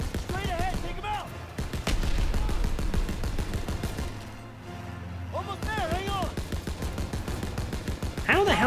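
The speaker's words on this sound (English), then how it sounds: "there's just like a million Germans firing at me" Rapid gunfire rattles almost without pause in Call of Duty: World War II, with many German soldiers shooting at a player firing a .30 cal machine gun from a speeding Jeep, loud and dense beneath excited talking.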